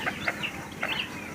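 A jungle fowl hen clucks in a few short, close bursts, some sharp and bright, with quiet background between them.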